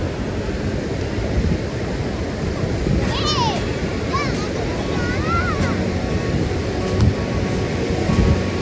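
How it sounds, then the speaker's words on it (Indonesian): Ocean surf at Echo Beach, Canggu, Bali, in the late afternoon with bigger waves makes a continuous broadband wash and rumble, with wind buffeting and faint high chirping sounds briefly over it. "Kayaknya semakin sore itu kan ombaknya juga semakin besar juga."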